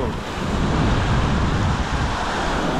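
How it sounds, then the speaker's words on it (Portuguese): Ocean waves surge steadily at Praia do Forno beach in Arraial do Cabo, a loud continuous wash of surf with wind rumble on the microphone and no voices. "a extensão da Praia do Forno"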